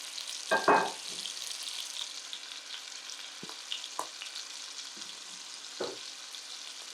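Garlic scapes frying in butter and olive oil with garlic, a soft, steady sizzle broken by a few louder clinks and stirring knocks early on and scattered taps later.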